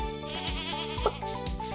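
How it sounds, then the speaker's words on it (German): Sheep on a Stardew Valley farm bleat in quick wavering cries, several overlapping calls close and fairly loud across a brief stretch. "Schafe."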